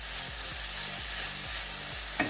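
Chicken sautés in a pot with pitted black olives added, giving a soft, continuous sizzle broken by regular scraping stirs about every half second, ending in a sharper clink.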